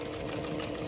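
A sewing machine back stitching over a backpack strap connector runs in one short, steady mechanical burst, close and alone with no voices.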